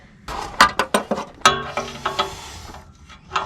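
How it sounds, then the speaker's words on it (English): A wrench clicks and ratchets in a quick series of metallic ticks while loosening an oxygen sensor on a Chevrolet Suburban, close up with short pauses between strokes. "now I'm going to get a wrench up here, try to loosen this up."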